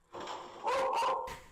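A dog barks a few times in close succession, loud and near, with yips between the barks and no talk over it, heard from a car stuck on a grassy slope.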